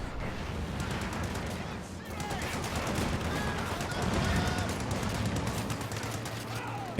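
Dense, continuous battlefield gunfire with rapid machine gun bursts from the World War II strategy game Company of Heroes 2, steady and fairly loud throughout with a commentator talking over it.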